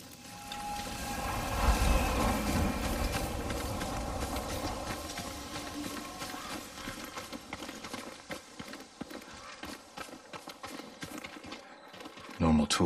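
A horse's hooves clip-clop at a stables in the video game Ghost of Tsushima, a soft, fairly steady walking rhythm under in-game ambience, with sharper hoof strikes toward the end.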